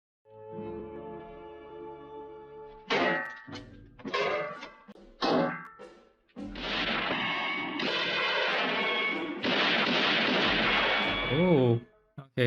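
Gunshots in a 1964 Western film scene, several sharp loud reports with echoing tails, mixed with music and dialogue and a viewer talking over the action.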